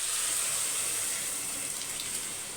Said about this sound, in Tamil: இப்போ வந்து பருப்பு தண்ணி சேர்த்துக்கலாம்